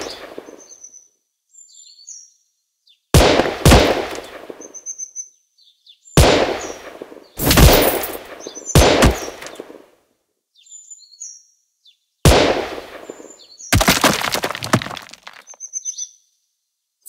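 Sharp, loud gunshot bursts from a shooting video game come in irregular clusters separated by near-silence, with brief chirpy electronic tones between the shots.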